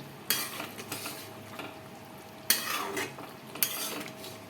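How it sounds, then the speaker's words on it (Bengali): A spoon scrapes and stirs thick chilli chicken gravy in a pan, with three sharp metallic scrapes standing out among softer stirring strokes and faint sizzling, close and moderately quiet, no talking. "এবার ভালো করে নাড়িয়ে দেবো আমি।"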